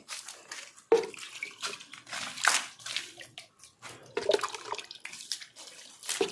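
Water is thrown by hand onto a house wall to wet it before plastering, coming as a series of separate splashes and sloshes with quiet gaps between them, close by and without talk.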